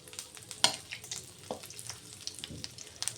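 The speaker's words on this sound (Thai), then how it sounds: "ทอดปลาหมึกต่อจ้า" Squid frying in a wok-style pan, a busy crackling sizzle with scattered pops and a sharp metallic clack near the start, fairly close and moderately loud.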